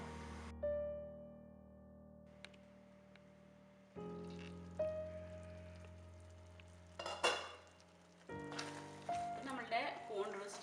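Mushroom roast simmering in a pan over a low flame, soft sizzling and stirring scrapes coming in bursts, with a voice talking over it.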